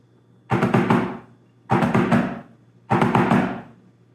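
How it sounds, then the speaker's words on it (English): Three short snare drum seven-stroke roll skeletons, each a quick cluster of strokes ending in a final accent, separated by brief pauses, played close and clear. "The skeleton of a 7-stroke roll sounds like this."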